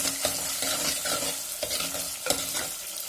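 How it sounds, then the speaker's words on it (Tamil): Onions sauté in a pan for a Tamil-style fish curry, a steady close sizzle broken by repeated scraping stirs of a spatula, with no voices. "நல்லா வதங்கிடுச்சு வெங்காயம்."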